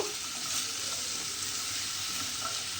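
Pumpkin curry sizzles steadily in a kadai as it is stirred, a soft, even frying hiss with faint scraping and no talking.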